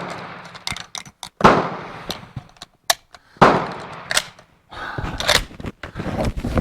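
Sharp shots from a K31 Swiss straight-pull rifle, three or four loud cracks spaced a second or two apart, each with a short echoing tail, the bolt clattering faintly between them at a range.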